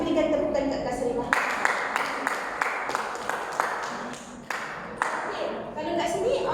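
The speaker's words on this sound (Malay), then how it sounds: "Kita berikan tepukan kat Kak Sarimah." An audience claps for a participant at a small community talk session, a loose run of overlapping hand claps lasting several seconds with a voice faintly underneath.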